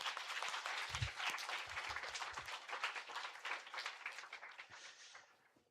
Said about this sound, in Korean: 우리 나오실 때 박수로 환영할까요?